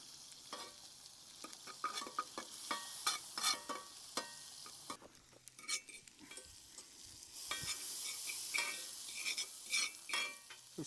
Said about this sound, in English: Just going to put the garlic into the butter now.